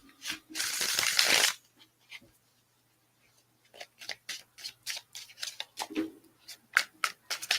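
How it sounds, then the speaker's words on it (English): Tarot cards are riffle shuffled in one dense, loud burst of fluttering card noise, then a quiet pause, followed by a scattered run of soft taps and clicks as cards are handled and laid down. "I've not done a raffle shuffle, so let's do one of them."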